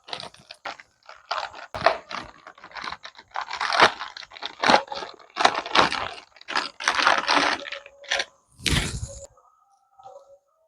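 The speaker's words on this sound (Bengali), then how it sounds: "মাশরুমটা এখন কেটে নেব।" Sharp, crisp crunches of a knife slicing through mushrooms on a cutting board come up close in irregular bursts, with short pauses between runs of cuts and no talking, ending in a quiet lull.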